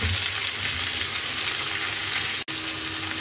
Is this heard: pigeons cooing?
no